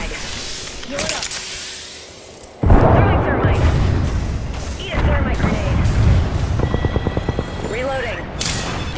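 A frag grenade explosion in the video game Apex Legends lands as a sudden loud boom that cuts in abruptly, followed by sustained rumbling gunfire-like bursts and game effects, with voice lines over it.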